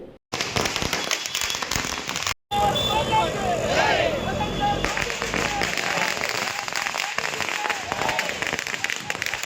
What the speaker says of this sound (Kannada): ಸಿಕಲ್ ರಾಮಚಂದ್ರಗೌಡ ಅವರ ನೇತೃತ್ವದಲ್ಲಿ ಬಿಜೆಪಿ ಜೆಡಿಎಸ್ ಕಾರ್ಯಕರ್ತರು ಸಿಹಿ ಅಂಚಿ ಪಟಾಕಿ ಸಿಡಿಸಿ ಸಂತೋಷ ವ್ಯಕ್ತಪಡಿಸಿದರು